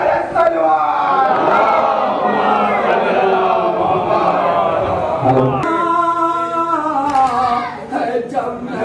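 A crowd at a Shia majlis memorial gathering chants salawat together in loud, rhythmic unison, voices swelling and repeating in waves close by.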